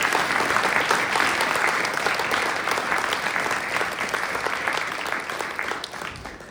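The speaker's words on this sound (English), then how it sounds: "Let's give them all a big round of applause." Audience applause at a Smith College evening event in Northampton, a dense, steady wash of many hands clapping, loud and sustained for several seconds before tapering slightly at the end.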